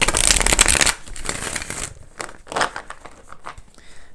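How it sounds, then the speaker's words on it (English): A deck of tarot cards is shuffled close up with a quick riffling burst, followed by softer, scattered card taps and slides. "let's go ahead and do four major shuffles for you"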